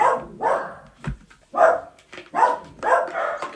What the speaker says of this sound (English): Let's just let the dog stop barking for now.